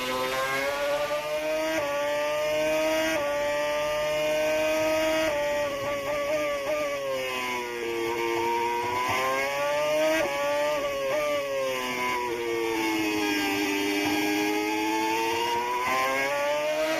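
A Formula 1 car at the 2006 Hungarian Grand Prix, on board with Giancarlo Fisichella, screams loudly and continuously, its engine pitch climbing and dropping sharply through gear shifts and braking.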